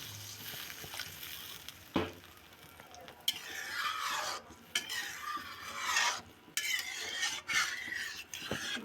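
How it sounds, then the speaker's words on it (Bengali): A spoon stirs fish curry in a pan just after the broth goes in, giving intermittent rasping scrapes and soft bubbling, close and fairly quiet, with a few sharper clicks against the pan. "ঝোলটা দিয়ে আমরা হালকা করে নেড়ে রান্না হতে দেবো কিছুক্ষণ"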